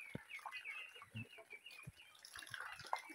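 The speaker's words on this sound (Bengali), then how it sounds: "আর এদিকে আমি মুরগি ছেড়ে দিচ্ছি।" Chickens let out and coming down from a roof cluck in scattered, soft bursts at a modest distance, with an occasional louder call and no voices.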